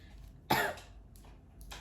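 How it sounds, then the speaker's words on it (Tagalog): A single sharp cough stands out, followed by a couple of fainter coughs. It is quiet and close, with no talking. "yung ubo ko hanggang ngayon hindi pa rin nawawala"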